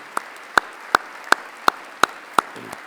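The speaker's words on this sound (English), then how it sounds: "give them a nice little round of applause" Steady clapping at an ethics awards event honoring college students: about eight crisp, evenly spaced claps, close and distinct, sounding like one or a few people rather than a full crowd.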